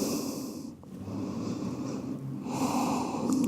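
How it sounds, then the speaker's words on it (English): Slow, audible nasal breaths in and out during a yoga child's pose, close and fairly quiet, with soft sniffing inhales and gentle exhales and no talk. "Breathing here."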